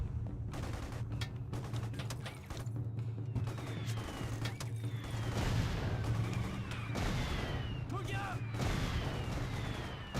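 Artillery strikes and gunfire in the video game Mercenaries: Playground of Destruction, with rapid repeated bangs, booms and whistling shells over a constant low engine drone, dense and chaotic throughout, with voices mixed in.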